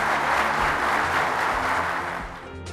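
A studio audience claps steadily, loud and full for most of the stretch, then thins and fades toward the end.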